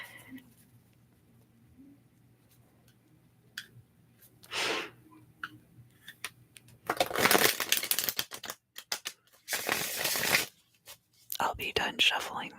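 Tarot cards being shuffled, several bursts of soft papery riffling and slapping that come louder and closer toward the end, after a quiet stretch with faint whispers and breaths.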